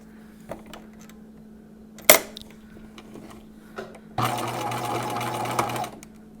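A sewing machine stitches a gown with a sharp click, then a loud, close, rapid whir of stitching running for about two seconds, with faint handling noises and a low hum around it.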